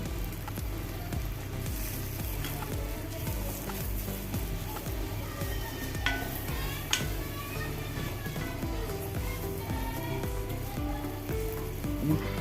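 Green chillies sizzling in hot oil for a mango ginger pickle, a steady close frying crackle with occasional stirring scrapes and a few brief bright clinks, no talking.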